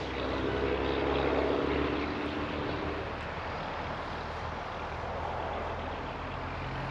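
A small DJI Mini 3 Pro drone flies with a steady, breathy propeller whine and broadband rush, strongest early and then settling into an even hum, with no talking.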